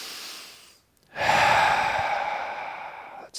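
A forceful open-mouth exhale during yoga breathing, a brief fading breath followed after a short silence by a long, loud, rushing whoosh of air lasting about two seconds.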